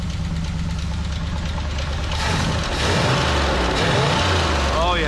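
A 427 Corvette engine runs loud and steady throughout, with a rough, uneven idle from a carburetor needing adjustment, and the revs rise and swell partway through.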